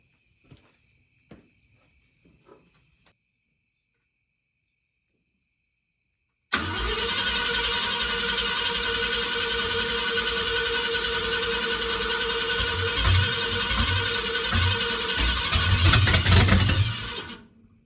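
A Ford F-100 with a 390 engine and no radiator cranks and fires after several seconds of near silence with a few faint clicks. It then runs loud and steady for about ten seconds, swells briefly, and cuts off.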